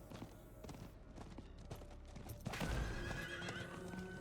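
A horse in the video game Diablo IV whinnies loudly after a run of quick clip-clop hoofbeats, the neigh rising sharply near the middle and trailing off, heard close with no talking.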